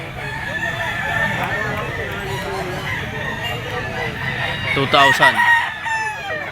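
A White Kelso bloodline stag with yellow legs crows at a pet market, with clucking fowl and a market crowd around it and people talking over the birds.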